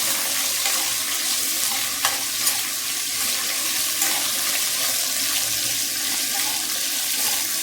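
Okra and green chillies sauté and stir in a pan for a home-made ground-masala sambar, a steady close sizzle with faint scraping, no talk.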